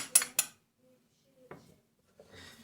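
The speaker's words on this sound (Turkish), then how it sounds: "Şimdi yumurtanın kabuğunu döküyoruz." Crushed eggshells are tipped into a bowl while making an egg-based feed mix, giving two sharp, close clatters at the start, then near silence with a faint later rustle.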